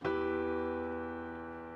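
A single piano-like synth note struck once, its bright tone sounding clearly and fading gradually over under two seconds.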